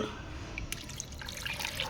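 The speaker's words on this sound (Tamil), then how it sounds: "இப்போ வந்துட்டு கொஞ்சம் தண்ணி ஊற்றுறோம்" Borewell water pours into a pot for growing lotus at home, a short close splashing trickle that runs steadily with a few brighter drips and gurgles.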